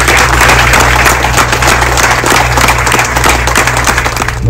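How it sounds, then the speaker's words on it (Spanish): Audience applause at an agricultural meeting on goat farming, honoring a national livestock official and his team: loud, continuous clapping from a crowd, with a low steady hum underneath. "Yo quisiera darle un fuerte aplauso."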